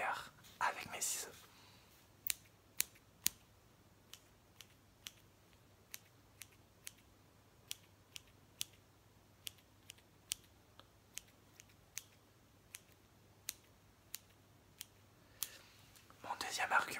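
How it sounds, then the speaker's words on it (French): Scissors snip fast and close in an ASMR setting, a long run of crisp, evenly spaced cuts in quiet, with soft whispering at the start and end. "Et même en fast, je suis le meilleur avec mes ciseaux."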